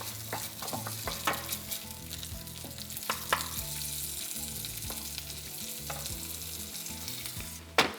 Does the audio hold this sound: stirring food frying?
yes